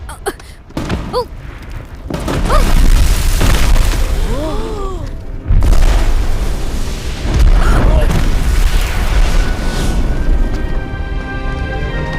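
Firecrackers go off in loud bursts and booms, with sharp cracks, whistling streaks and a heavy rumble that keep going, while voices talk over part of it.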